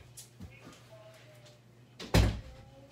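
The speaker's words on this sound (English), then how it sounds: "Shut my door." A bedroom door is shut: a few soft handling knocks, then one sharp, close bang as it closes, with a person talking around it.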